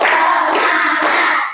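A classroom of pupils claps together in a rhythmic class routine, producing a dense, loud burst of hand claps that runs almost without a break, with no talking.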